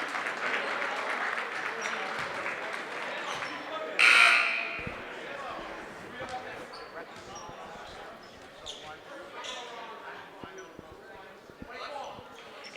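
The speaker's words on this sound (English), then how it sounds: "let's hear a round of applause for our media crew helping out with tonight's game on the walking track" Crowd applause in a gym during a high school boys basketball game, moderate clapping under an announcer's voice, with a sharp buzzer burst partway through and scattered arena noise afterward.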